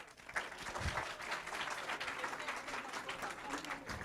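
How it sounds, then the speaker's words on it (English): An audience applauds at a Diwali celebration, steady dense clapping that fills the whole stretch at moderate distance, with crowd murmur mixed in. "Give them a big applause."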